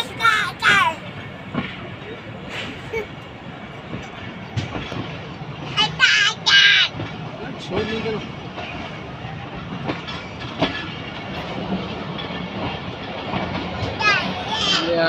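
The Millet Express of Pakistan Railway pulling into Gojra station, with rumbling wheels and clattering carriages under a steady railway din, loud and close, while people and children talk nearby.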